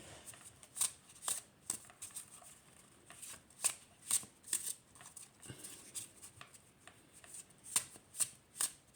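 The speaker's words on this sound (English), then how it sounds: "I'm going to just do a few shuffles so you can see how it shuffles in my hands" Thin pocket-size tarot cards shuffled by hand, with crisp riffling bursts and soft slides repeating in an uneven rhythm, close and fairly quiet against a faint room hush.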